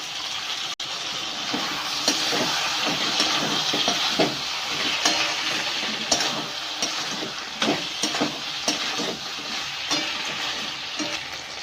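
Okra frying with mustard paste in a pan gives a steady, loud sizzle and crackle with scattered spatters and stirring scrapes, heard alone without talk.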